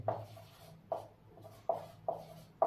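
Marker or chalk strokes on a board during a classroom tense lesson, five distinct scratchy strokes in an even rhythm, close and fairly quiet with no talking.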